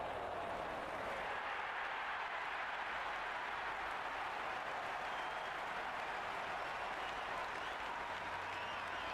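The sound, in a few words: crowd applauding in cricket video game Cricket 26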